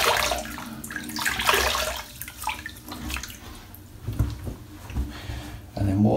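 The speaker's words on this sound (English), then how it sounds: "So what I'm going to do is wet my face." Water splashes and runs at a sink while a man wets his face before a wet shave, uneven close splashing and trickling with brief pauses and a drawer-like knock near the end.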